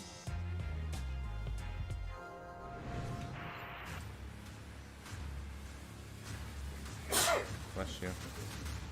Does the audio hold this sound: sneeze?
yes